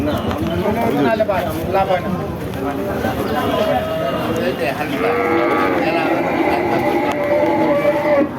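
A dairy cow and other livestock call out at a busy cattle market, with lowing and bleating against constant crowd chatter and someone talking nearby.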